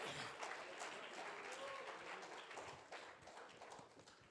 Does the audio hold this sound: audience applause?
yes